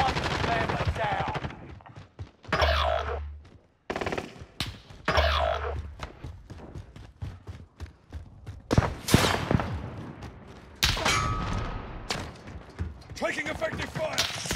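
Gunfire in Call of Duty Warzone Pacific, a team deathmatch with an M4A1: repeated bursts of automatic rifle fire and heavy thuds, close and loud, broken by short gaps, with game voice lines mixed in.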